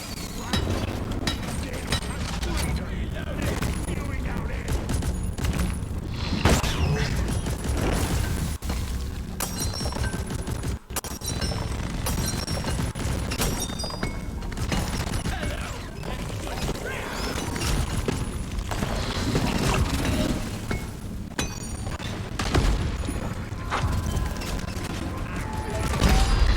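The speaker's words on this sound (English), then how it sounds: "One sentry gun ready to kill." A deployed sentry gun in Deep Rock Galactic fires long, steady rapid bursts of mechanical gunfire in a cave, dense and continuous for the whole stretch, with occasional clanks and a voice talking over it.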